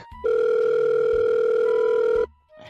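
A telephone rings with a single steady electronic tone lasting about two seconds, loud and close, in a quiet moment at a family beach outing.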